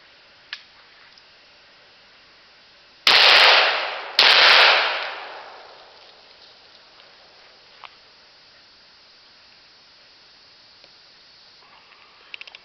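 An ARMA EIBAR shotgun fires two loud, close blasts about a second apart, each booming report trailing off in a long decaying echo, with near silence before and after.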